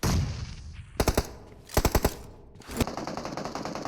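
Gunfire in a competitive shooter video game comes in sharp bursts of three or four rapid shots, several separate volleys with short pauses between them and a faint background hum.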